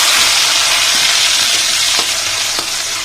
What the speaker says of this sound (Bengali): তারপর দিয়ে দিব আমি এখানে রসুন আর পেঁয়াজ একসাথে দিয়ে দিব